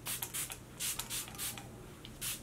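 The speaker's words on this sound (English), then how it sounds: "So the first thing I'm gonna do is take my SMASHBOX primer water and prime." Smashbox primer water face mist is sprayed several times in quick succession, short hissing pumps in an irregular rhythm, close and clear with no talking.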